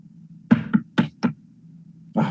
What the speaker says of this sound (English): Go to the gate, somebody knocks.